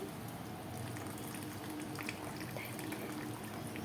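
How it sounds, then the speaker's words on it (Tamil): Water boiling in a pot for mutton biryani, a soft, steady bubbling and simmering that continues evenly throughout without any voices. "நல்லா தண்ணி கொதிச்சிருச்சு"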